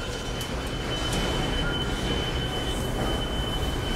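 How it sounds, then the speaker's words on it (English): A subway train runs through a tunnel beneath the Brooklyn Bridge area. It gives a loud, steady rumble with metallic wheel squeal and a high whine, and no one speaks over it. "I made this train."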